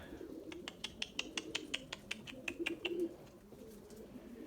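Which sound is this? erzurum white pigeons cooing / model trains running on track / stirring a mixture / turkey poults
erzurum white pigeons cooing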